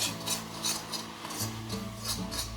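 Chilli, coriander and turmeric powders being stirred into a pan with softened paste, giving a steady scraping, rasping rhythm of utensil against the pan, close and continuous with no talk.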